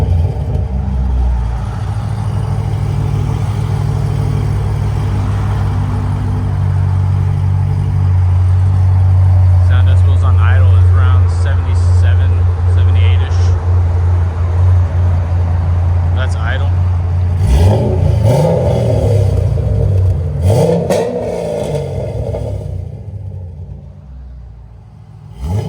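A 2007 Chevy Corvette 6.0L V8 with headers, no cats and Flowmaster Super 10 mufflers idles with a deep, loud, steady rumble, then revs in sharp blips before cutting off; close by, with no talking over it.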